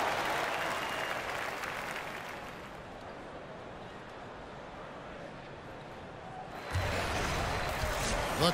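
Arena crowd applause at the Air Canada Centre in Toronto for a Raptors game in NBA 2K18, steady broad clapping and cheering that softens midway then swells loudly again near the end.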